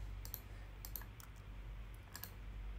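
A computer keyboard is typed on lightly, with a handful of scattered key clicks that sound soft and close over a low, steady room hum.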